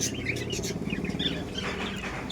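Pigeons at a bird-selling shop, faint chirps and short calls scattered over a low background hum, with no voices.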